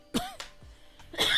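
A single cough bursts out, followed by a second rough, throaty cough and a few smaller breathy throat sounds, close and fairly loud with no talk.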